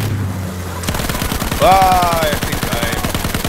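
Rapid, sustained machine-gun fire in a multiplayer video game, a steady stream of sharp shots close and loud, with a player's voice briefly calling out over it.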